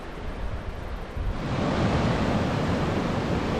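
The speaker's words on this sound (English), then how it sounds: "So this is a fairly steep beach, this one." Surf breaking on a steep ocean beach at Rye Ocean Beach, a soft wash that swells into a loud, continuous roar after a second, up close with wind.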